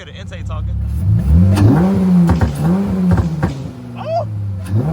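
A car engine revs loudly in repeated surges with audible intake noise, the pitch rising and falling, with excited voices talking over the engine.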